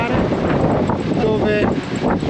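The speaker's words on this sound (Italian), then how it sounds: "c'è un vento micidiale" Strong seaside wind buffets the microphone in a steady, dense roar along the coast in Albania, with gusting surges and faint tonal whistles throughout.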